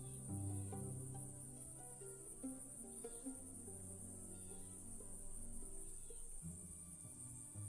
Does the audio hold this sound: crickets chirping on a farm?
yes